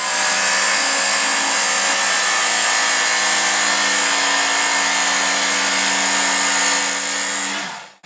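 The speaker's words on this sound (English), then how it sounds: "now that we are actually sharpening and not just grinding off mass amounts of steel" A power sharpener grinds steel on a Ghanaian sword blade in one continuous, loud, steady whine with a harsh abrasive hiss, running unbroken for about seven and a half seconds before cutting off abruptly.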